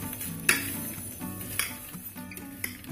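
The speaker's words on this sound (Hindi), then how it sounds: "अब इसको हम अच्छे से मिक्स कर लेंगे।" Namkeen snack mixture being tossed with spices and powdered sugar in a bowl or pan, giving soft stirring rustles with a few sharp clinks of utensil on metal, close up and with no talking.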